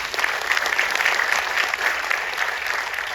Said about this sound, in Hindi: एक बार आपके लिए ताली बजवा दें।